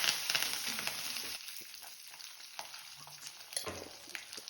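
Red chilies, slit green chilies and curry leaves go into hot oil with a loud, crackling burst of sizzle that settles after a second into a softer fry, broken by light utensil taps.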